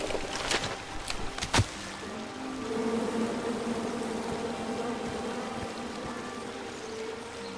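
A low, droning buzz of angry bees from a tree in the King's Quest video game, steady and fairly faint after a few sharp clicks at the start.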